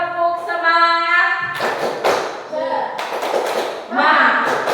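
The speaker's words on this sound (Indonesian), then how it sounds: "Kalau biasa kita tepuk semangat, gimana? Tepuk semangat." A group claps a rhythmic encouragement clap (tepuk semangat) during a teacher training session: a run of sharp, fairly loud clap bursts that follows a sustained tone.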